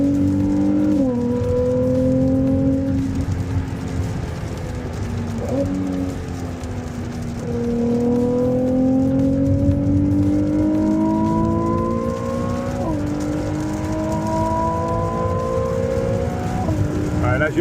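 A Ferrari 296 GTB on a wet racing circuit, its engine note climbing through repeated gear changes in rising sweeps, loud and close from inside the car, with rain hiss underneath and occasional talk.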